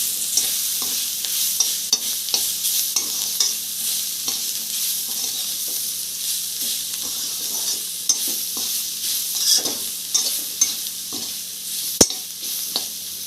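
Vegetables cooked with masala spices for veg noodles, stirred in a pan with a spoon, steady scraping and tapping over a soft sizzle, with one sharp knock near the end.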